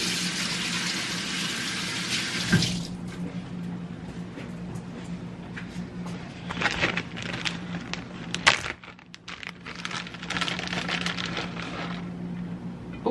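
Running kitchen tap splashing as greasy fingers from grated cheese are rinsed under it, water hissing on and off in bursts with some clatter, close and moderately loud, no talk.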